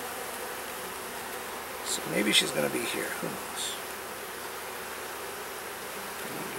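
Honey bees buzzing over a frame crowded with bees during a nuc inspection, a steady close drone throughout with someone talking briefly in the middle.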